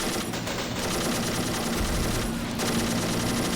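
Machine guns fire nonstop in an Army Men plastic-soldier war game, a dense, constant clatter with no pauses, loud and close for the whole stretch.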